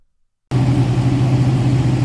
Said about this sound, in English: so we got the truck running